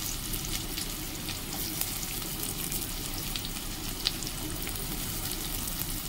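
Chopped onion frying in a pan over a low flame, a steady, even sizzle with a soft crackle throughout, occasional faint stirring clicks and one brief louder tick, no voices.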